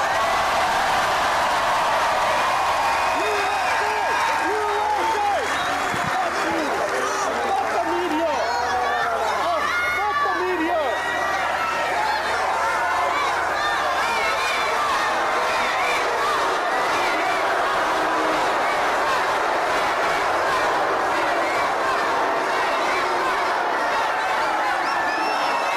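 Large crowd at a Trump rally roaring and cheering continuously, a dense wash of voices and shouts with scattered clapping, loud and sustained throughout.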